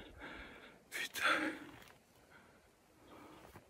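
A man catches his breath in heavy, gasping pants while trekking through deep snow in a Canadian forest, the breathing coming in close, ragged bursts and then softer huffs.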